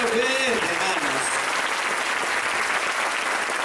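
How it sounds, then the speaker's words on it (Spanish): A church congregation applauds in a continuous wash of clapping, with a voice speaking briefly over the start before the applause carries on alone. "Ya fuerte aplauso"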